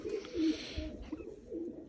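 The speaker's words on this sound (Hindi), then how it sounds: "ये देखें ये कबूतर है," Close-up soft, low pigeon coos, a few murmured throaty calls in quick succession against quiet background rustle.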